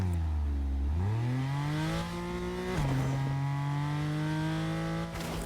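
A car in Fortnite revs and accelerates with a loud, steady engine tone that climbs and shifts pitch several times, and no voices come through.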